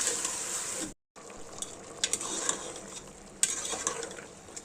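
Mutton fries with salt over a high flame in a karahi, giving a soft steady sizzle with scattered scraping clinks of a utensil against the pan and a brief dropout near the start.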